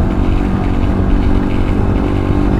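A trail motorcycle engine revs steadily as the throttle is opened, a loud, continuous low rumble with a dense drone throughout and no voices.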